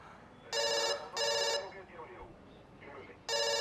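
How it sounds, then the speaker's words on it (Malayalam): A telephone rings in two long electronic bursts, pauses while faint voices talk in the room, then starts ringing again, fairly loud and close. "പോയി ഫോൺ എടുക്കണോ?"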